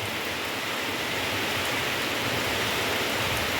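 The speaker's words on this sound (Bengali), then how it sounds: "দেখো হাওয়া হচ্ছে আর বৃষ্টি পড়ছে।" Steady rain falls on a pond in wind, a dense, even hiss of drops on water that holds at the same level throughout with no voices.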